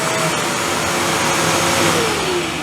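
A Vevor 4-in-1 wet and dry vacuum cleaner running at full speed gives a loud, steady motor whine with a broad rushing airflow that holds constant throughout, close by and with no talking.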